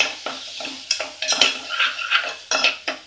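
Green peas go into a pan of half-cooked tomato, with a spoon clinking and scraping against the metal pan in quick, uneven bursts over a faint background; no one talks.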